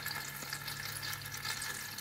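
Old antifreeze mixed with water drains from a Honda Fit cooling system in a steady, continuous close splashing trickle with no talk.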